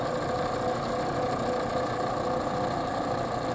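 A Harbor Freight disk and belt sander runs steadily, giving a constant loud motor whir with belt and abrasive hiss that stays even throughout, with no talking.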